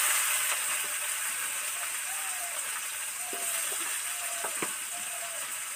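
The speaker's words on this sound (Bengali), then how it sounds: "রস ভাজা হয়ে গেছে, এবার এই কুচো পেঁয়াজটা উঠিয়ে দিচ্ছি।" Chopped onion sizzling in a wok of hot oil right after garlic for a Bengali katla fish kalia, a steady hissing fry with a few faint clinks, no voice.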